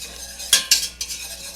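A utensil scrapes through flour being stirred into melted butter and oil for a roux in a pan, with a couple of sharp close strokes followed by softer swirling.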